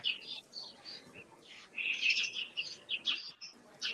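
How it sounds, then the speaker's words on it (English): Many birds chirp and tweet outdoors in a dense, overlapping chorus of short high calls, some near and loud, others fainter, continuous throughout with no talk. "just a lot of birds out right now"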